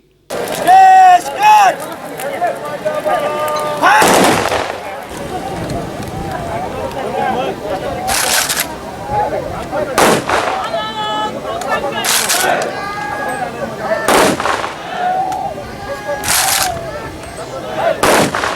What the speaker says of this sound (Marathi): महाराष्ट्र पोलीस आणि भारतीय लष्कराच्या जवानांनी हवेत बंदुकीच्या 3 फैरी झाडून आणि अंतिम बिगुल वाजवत मानवंदना दिली